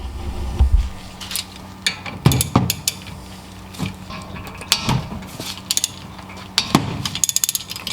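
A ratchet wrench loosens a brake caliper bolt on a 2006-2012 Lexus ES350, heard as close, intermittent bursts of clicks and metallic knocks with pauses between, and no talk.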